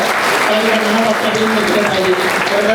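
A crowd at a political party rally breaks into loud, dense applause, continuous clapping from many hands filling the space, with a voice speaking over it.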